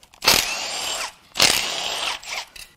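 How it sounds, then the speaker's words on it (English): A power tool removing perimeter bolts from an AJ126 engine after a catastrophic overheat whirs in two loud, steady bursts with a short pause between them, close up and with no talk. "Next, we'll get some of these perimeter bolts out."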